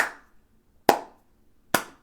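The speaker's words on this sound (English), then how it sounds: "I'm going to slow clap for Noah" Three slow, deliberate hand claps spaced nearly a second apart, each sharp and close, with quiet gaps between, during a Pokémon league match broadcast.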